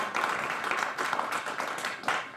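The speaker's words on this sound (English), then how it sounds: "can we just have a round of applause for the whole team?" An audience at a speech event about an African future applauds the event team, a dense, continuous wash of many hands clapping throughout.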